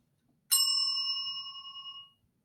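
A single bicycle-style bell rung once, a bright metallic ding that rings out clearly and decays smoothly over about a second and a half, alone against near silence.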